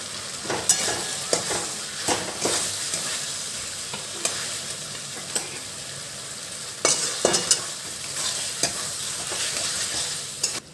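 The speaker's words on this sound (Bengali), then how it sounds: "মশলাটা ভালো হয়ে কষানো হয়ে গেছে আমি এরপর ভেজে রাখা ফুলকপিগুলো দিয়ে দিলাম" Fried cauliflower sizzles loudly in thick cooked masala while a spoon stirs it, giving a steady close frying hiss broken by repeated scraping clinks against the pan.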